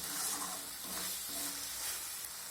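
Spice paste sizzling steadily in oil in a pan for a cauliflower, potato and soybean curry, a continuous bright frying hiss with a faint stirring scrape, close and even throughout.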